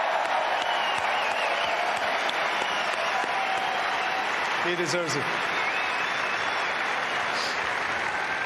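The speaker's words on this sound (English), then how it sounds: "Let's give him a big round of applause to Roger" A tennis crowd applauds in honour of Roger Federer, a dense steady wash of clapping and cheering throughout, with a voice speaking briefly over it.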